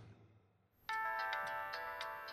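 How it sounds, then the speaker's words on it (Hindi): A phone rings on and on, its bright electronic ringtone pulsing in a steady repeating pattern that starts abruptly after a quiet, dim room tone and stays loud and close. "लगातार बज रही फोन की घंटी से आखिरकार दर्पण की नींद टूट गई।"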